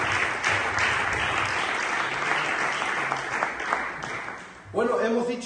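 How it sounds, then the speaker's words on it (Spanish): A church congregation claps and cheers for several seconds in a continuous wash of applause, which fades briefly before a voice speaks over the tail end. "¿Puedes dar un aplauso al Señor?"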